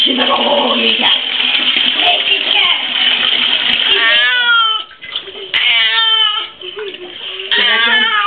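Cat yowling and meowing loudly while being bathed in a tub, drawn-out distressed wails rising and falling with short breaks, close and prominent; people talk at points alongside it.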